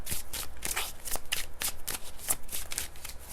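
Close, crisp riffling of a deck of tarot cards being shuffled, a quick run of papery flutters and taps with no talking.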